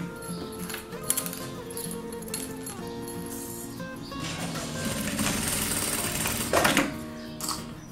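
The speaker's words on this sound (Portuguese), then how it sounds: "Eu vou passar uma costurinha para fixar a alça." A sewing machine stitches a strap onto a triple pencil case in short, rapid mechanical bursts. It sounds close and fairly quiet, with no talking.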